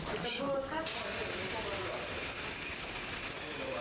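Train pulling into a station carrying refugees from Simferopol, Crimea, to Kiev, with a steady rumble of rolling wagons and a high sustained wheel squeal, plus faint voices.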